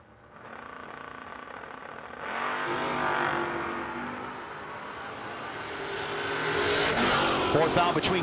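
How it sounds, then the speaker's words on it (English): No-Box 660 Shootout drag race cars, including a little red S10, launching and accelerating hard down the strip in a sustained loud engine roar that swells near the end, with an announcer talking over it. "Great drag race right there."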